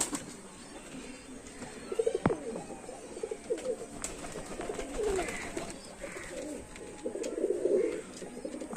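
Royal teddy pigeons coo softly in bursts near a home loft, with low throaty calls recurring between quiet moments and an occasional faint flutter of wings.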